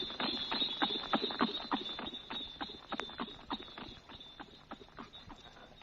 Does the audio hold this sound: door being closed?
no